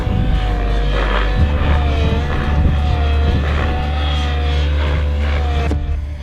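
Model engines drone and whine steadily as several RC helicopters fly at an outdoor fun fly event in the UK, a loud sustained buzz with shifting pitch and a low rumbling undertone.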